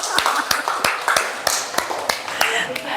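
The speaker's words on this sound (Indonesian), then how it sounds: "tepuk tangan buat kita semuanya" Several people clapping together in a short burst of applause, sharp irregular claps close by with a murmur of voices underneath.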